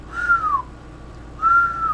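A person whistles into a Cobra 20 Plus 40-channel CB radio microphone, two clear sustained whistled tones that each glide downward, separated by a short pause, alone and fairly close.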